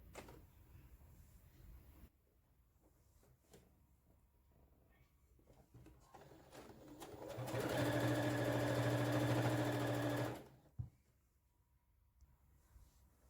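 A sewing machine stitches a homemade door mat, running in one loud, steady whir of about three seconds, then stopping with a click. The room is otherwise quiet, with light handling noises before and after.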